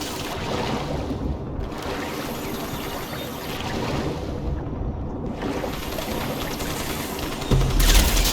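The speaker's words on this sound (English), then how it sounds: "I'm being shot. I am being shot." Sustained gunfire and bursts of automatic weapons fire fill a combat scene in the Crysis: Warhead video game, dense and continuous for the whole stretch, with a heavier, louder burst near the end.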